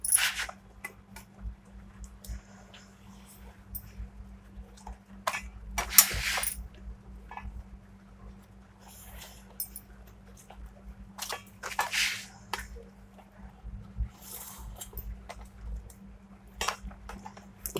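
A knife cuts the sides of samosa pastry for crispy onion samosas, giving sharp, brief clicking taps against a board that come irregularly amid quieter stretches, with a steady low hum beneath.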